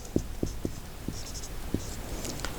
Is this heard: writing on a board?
yes